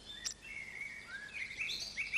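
Song thrush fledglings give thin, high-pitched calls that repeat in a short series of drawn-out whistles from a hedge, fairly faint against a quiet outdoor background.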